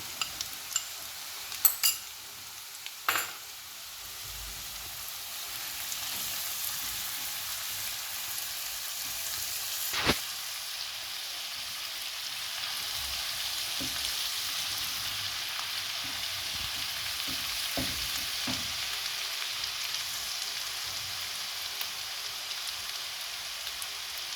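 Chopped garlic and ginger stir-frying in oil for Chinese fried rice make a steady, rain-like hiss, with a few utensil knocks early on before the sizzle settles into an even wash.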